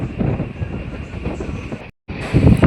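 A passenger train arrives at Belur station on the Howrah line, its close, loud rolling rumble and clickety-clack of wheels continuing with a brief break near the end.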